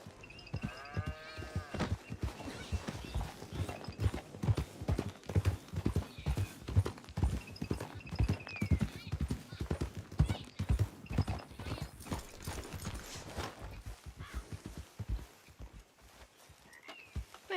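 Rapid, steady clip-clop of video game horse hooves trotting close by, with a brief whinny near the start and a low background rumble.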